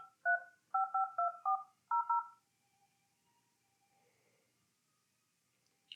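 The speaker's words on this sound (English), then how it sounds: "You could dial a phone number, you could pick a call off a park, you could call a coworker" Seven crisp DTMF keypad tones from a Yealink T57w desk phone, dialed in a quick near-even rhythm with a short pause before the last two, then a faint quiet line.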